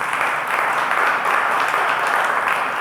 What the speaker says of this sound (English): quickly give a round of applause for yourselves